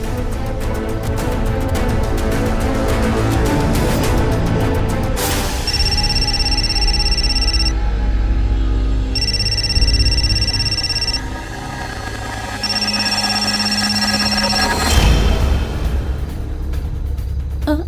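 A phone rings in repeated electronic bursts with short pauses between them, heard over a busy background of music and noise.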